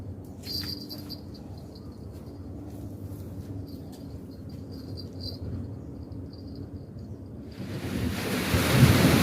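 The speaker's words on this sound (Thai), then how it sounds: "ฝนตกลงมาแล้วครับผม" Rain during a fishing session starts as a soft patter beneath insect chirping and occasional thunder, then swells into a loud, dense downpour over the last couple of seconds.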